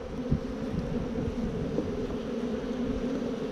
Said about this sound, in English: Oh yeah, that's a lot of bees.